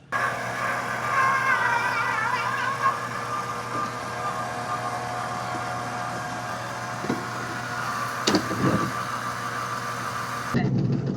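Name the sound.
robot vacuum dock washing its mop pad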